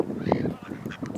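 A pet duck gives a short, honking quack or two, close by, over quiet background noise and faint murmuring.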